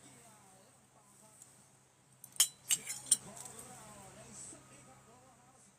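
Spoon and cutlery clinking at a home family meal: a quick run of three or four sharp, bright clinks in the middle, over quiet room noise and faint low voices.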